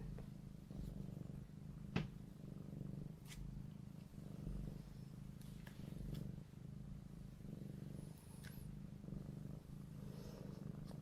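Cats purring make a low, steady rumble that goes on continuously and close by, with occasional faint clicks and rustles in a quiet indoor setting.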